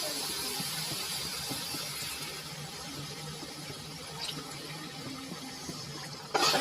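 Water pours into a pan of frying masala for a rohu fish curry, a steady close hiss and gurgle that continues evenly, ending in a brief louder splash.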